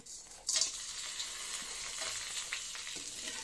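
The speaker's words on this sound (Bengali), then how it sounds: "তেজপাতা, গরম মশলা, জিরা ফোড়ন দেবো।" Bay leaf, garam masala and cumin tempering dropped into hot oil give a quick sharp sizzle burst, then a steady bright hiss with faint stirring taps, for a jackfruit and prawn kofta curry.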